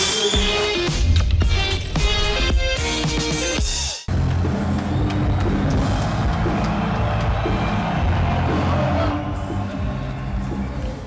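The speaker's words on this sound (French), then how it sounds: "On applaudit également son adversaire." Crowd at a boxing event applauding a fighter's opponent, a dense sustained wash of clapping and cheering that carries on after a sharp cut from music, loud and continuous.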